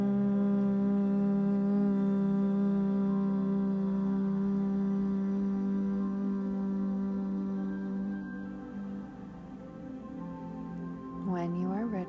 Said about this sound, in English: keeping the lips closed and humming.